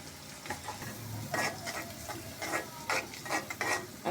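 Fish roe stir-frying in a pan for a bitter-gourd fry, with a steady close sizzle broken by repeated scraping strokes of a spatula across the pan, no voices.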